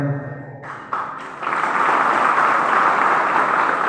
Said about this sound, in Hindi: इनके लिए आप सब जितनी तालियां बजाए उतना ही कम है, फिर भी बजाइए तालियां।